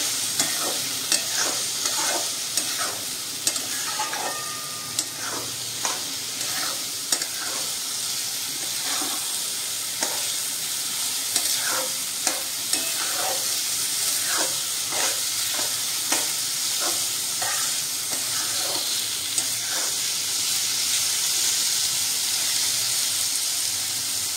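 Mutton rakti masala sizzles and fries steadily in a pan while being stirred, with repeated scraping clicks of the spoon across the pan over a constant close hiss, no voices.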